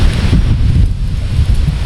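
Strong wind buffets the microphone outdoors, a loud, steady low rumble with gusty swells over about two seconds, no voices.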